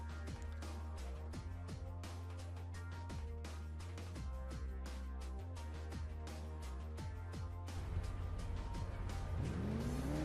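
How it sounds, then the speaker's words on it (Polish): A police car drives in the video game CrashTime III, its engine droning and revving steadily beneath loud game music. "A weźmy sobie na patrol samochód policyjny"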